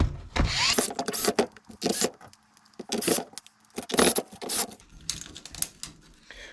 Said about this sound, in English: let's put some screws back in this thing